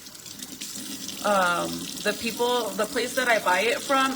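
Water runs from a kitchen tap as something is rinsed underneath it, the stream hissing and splashing in uneven bursts close up while someone talks over it.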